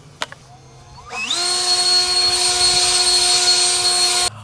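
A small handheld leaf blower starts up and spins to a steady, loud, high-pitched whine that holds for about three seconds before cutting off.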